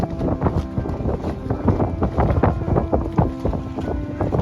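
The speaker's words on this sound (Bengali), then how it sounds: "এখানে দুটো বোট রয়েছে স্পিড বোট" A speed boat sits on Lake George, its mid-pitched engine rumble chugging unevenly under strong wind buffeting the microphone, with no talk.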